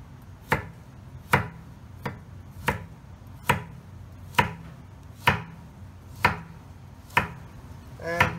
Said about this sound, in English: And same with our carrot, I'm just going to go diagonally.